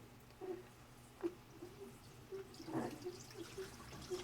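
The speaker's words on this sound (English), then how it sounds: "It's spinning the clothes to redistribute them. That's what you hear, that slosh." Top-load Maytag Neptune washer with an unbalanced-load fault, clothes sloshing inside as the drum spins to redistribute them; faint, soft watery swishes at irregular intervals over a low hum, no talking.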